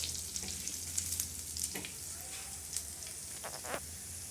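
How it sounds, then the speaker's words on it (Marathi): Black masala spices roasting in a pan for mutton curry, with a steady close crackling sizzle and occasional scrapes of a stirring spoon, moderately quiet. "बघा मसाला कसा भाजतोय आपला खरपूस"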